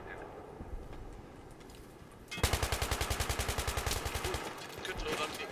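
Automatic gunfire in Battlefield 3 on a snowy tank map: a fast, evenly spaced burst of loud shots lasting about two seconds, following a quieter stretch of battle ambience.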